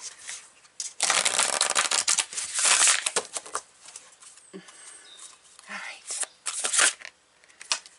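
An oracle card deck is shuffled by hand in close, papery riffling bursts, with a long flurry early on and shorter rustles near the end.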